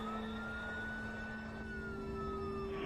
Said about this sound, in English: could hear the sirens finally show up out front.